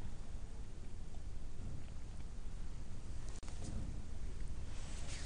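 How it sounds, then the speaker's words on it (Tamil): A heavy afternoon downpour gives a steady, fairly faint hiss of rain that stays even throughout, with a brief dip partway through and no voices. "இன்று பிற்பகலில் பலத்த மழை பெய்தது"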